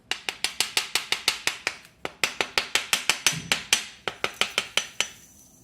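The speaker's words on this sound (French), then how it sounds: "je prends le tournevis pour tapoter dessus." Rapid, evenly spaced metallic taps from a screwdriver striking a copper tube packed with heated sand, about two dozen crisp close hits in quick rhythm with a short pause midway.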